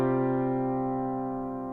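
A piano sounds a sustained suspended fourth chord, several notes struck together and left to ring, decaying slowly and evenly over under two seconds, alone and fairly soft.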